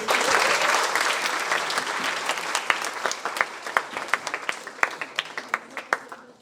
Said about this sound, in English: which you guys were clapping and doing all sorts of things